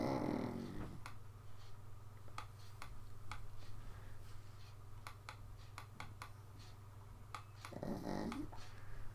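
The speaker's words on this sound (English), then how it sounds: "He's snoring like he's 80 years old." A puppy under two years old snores softly nearby, with slow raspy breaths at the start and again near the end, while faint clicking taps from a keyboard or mouse sound in between.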